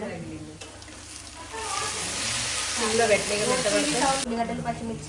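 Tempering spices crackle and sizzle in hot oil, a steady frying hiss that intensifies, with a voice speaking over it.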